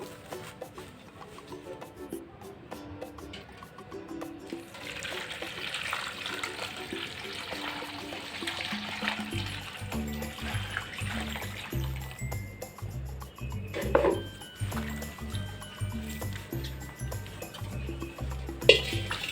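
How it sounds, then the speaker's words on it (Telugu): Moringa leaves being washed by hand in water, with steady splashing and trickling running close by at a low level and no talk. "ఇప్పుడు నీళ్ళు వేసుకొని శుభ్రంగా కడుక్కోవాలి రెండు మూడు సార్లు శుభ్రంగా నీట్గా కడుక్కోవాలి"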